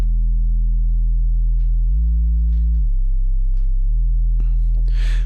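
A synthesized sub bass sine tone with its third harmonic hums loud and steady, stepping up in pitch, then down, then back, with a brief noisy burst near the end.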